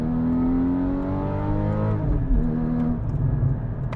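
A Porsche engine runs up close with a steady, strong, tonal drone that shifts and drops in pitch midway before settling into a rougher, lower idle, with no talking.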